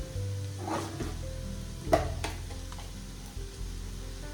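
Masala and coriander powder sizzle steadily in a frying pan while prawn biryani is being cooked, a close, continuous fry with a brief stirring knock partway through.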